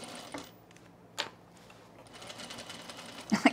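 A sewing machine stitches fabric for men's cargo shorts, a faint rapid mechanical chatter running in bursts, with a louder clatter near the end.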